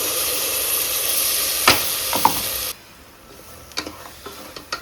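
Onions sizzle and hiss loudly in oil as a ground paste of ginger, garlic, cinnamon, cloves, fennel and poppy seeds goes in for a Karnataka mutton gravy. A few sharp stirring scrapes follow, and then the frying drops to a quieter crackle.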